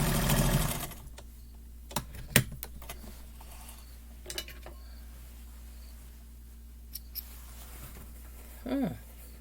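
A sewing machine stitches a quilt top with a low, steady motor hum. Scattered clicks and taps sound over it, and a louder rustle of handling comes at the start.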